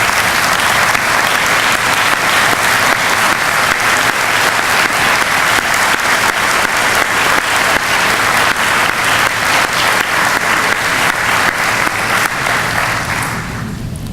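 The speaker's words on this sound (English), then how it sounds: "Let's give them a round of applause." A university convocation audience gives sustained, loud applause for the board and facilities management, a dense even clatter of many hands that tapers off slightly at the very end.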